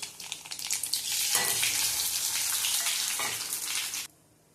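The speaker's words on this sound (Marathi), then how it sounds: "फोडणीसाठी आपण याच्यात जिरं आणि राई टाकूया।" Cumin and mustard seeds hit hot oil in a kadhai for tempering, giving a loud, steady, close-up sizzle that holds for about four seconds before cutting off abruptly.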